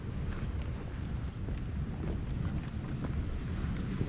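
Grotto Geyser in Yellowstone erupts with a steady, broadband rushing roar of water and steam. It sounds like loud wind noise on the microphone and carries on without a break through the whole moment.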